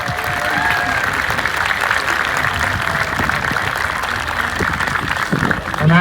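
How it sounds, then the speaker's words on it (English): Sustained applause from an outdoor audience at the opening ceremony of a Highland Games at a farm park in the Peak District, dense steady clapping that carries for several seconds with a faint voice underneath. "Round of applause for them to put it all on."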